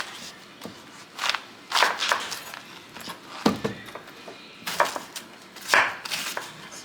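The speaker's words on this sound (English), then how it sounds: "So I'm going to cut up the cabbage." A knife chops cabbage on a cutting board in uneven bursts of crisp thuds, some clustered quickly and others spaced by short pauses, close and fairly loud.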